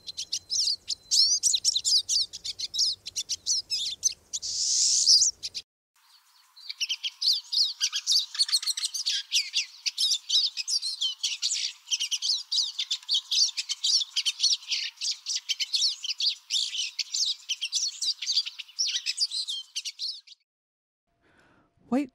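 A pine siskin in spring breeding plumage, feeding on cedar seeds, gives a long run of buzzy, twittering calls, rapid and fairly close, with a brief louder burst early on and a short pause before the chatter resumes.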